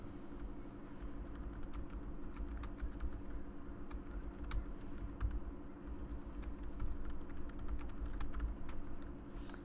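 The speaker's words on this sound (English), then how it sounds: "I can type in feedback" Typing on a computer keyboard: quick, irregular clicking keystrokes over a steady low background hum, moderately close and fairly quiet.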